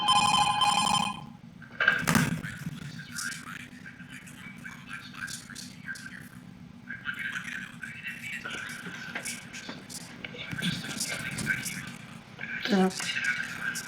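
An electronic telephone bell rings in short bursts in the video game FNAF2 Reimagined, over a low hum, with clicks and bumps, and someone talks at times.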